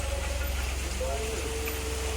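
Steady rain falls at Amboli ghat, a dense, even hiss with a low rumble beneath it. A faint tone drifts through the brief stretch.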